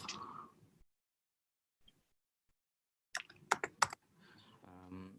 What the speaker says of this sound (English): I'm typing this command.